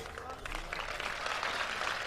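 Steady applause from a crowd at a Hindi poetry recital, a dense wash of clapping that stays even throughout.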